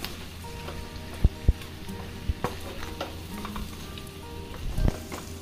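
Boti, spiced goat offal coated in chili powder, fries on a low flame with a soft continuous sizzle and a few sharp spoon scrapes and knocks against the pan nearby, with no one speaking.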